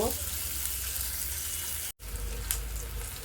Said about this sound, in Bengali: এগুলোকে আমি এখন গোল্ডেন ব্রাউন করে ফ্রাই করে নিব।